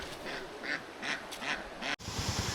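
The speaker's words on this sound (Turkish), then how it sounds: "Ördeklere bakalım" Several ducks quack in short bursts, fairly close, over a steady outdoor rumble; a brief cut leaves a lower droning noise after.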